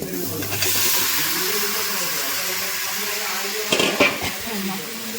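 Malabar spinach and potato go into hot spiced oil for a fish and crab curry, giving a steady sizzle with stirring and a few sharp clatters of a utensil against the pan, while a voice talks over it.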